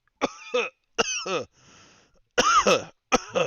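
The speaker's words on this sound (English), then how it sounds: "He coughs a little." A man coughs several times in short harsh bursts, close and alone, with a brief breathy pause between.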